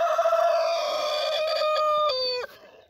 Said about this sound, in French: Et là, on a un coq, le coq BHB du coup.